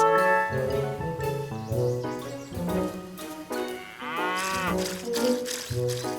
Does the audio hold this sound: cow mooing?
yes